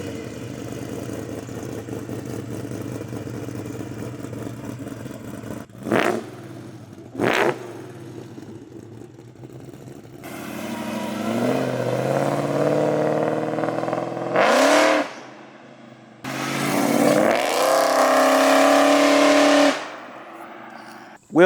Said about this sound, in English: a 3-inch piping all the way back with Flowmaster chambered exhaust, so very quiet at idle, which I like, for the neighbors.